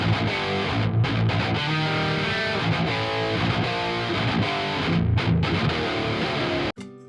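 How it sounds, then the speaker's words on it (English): Progressive metal guitar runs through a high-gain amp simulator, giving a thick, saturated, heavily overdriven roar of sustained riffing with brief choked gaps. It plays loud and continuous, then cuts off abruptly just before the end. "The main amp is a pretty classic metal tone, and it has a lot of gain and overdrive"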